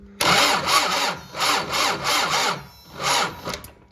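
An MTZ-80 tractor engine being cranked after repair, a rhythmic chugging starter rumble repeating in about six loud strokes over a few seconds, close and without speech.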